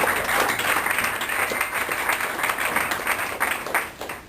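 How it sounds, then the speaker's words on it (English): An audience at a seminar weekend bursts into warm applause, dense overlapping clapping that holds steady and then begins to thin out near the end. "let's give David a round of applause"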